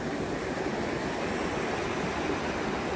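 Rushing river water near Trummelbach Falls in a Swiss Alpine valley, a steady dense roar of turbulent flow filling the clip from start to finish without pause, close and constant.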